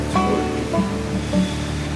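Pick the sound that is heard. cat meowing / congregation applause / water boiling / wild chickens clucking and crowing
water boiling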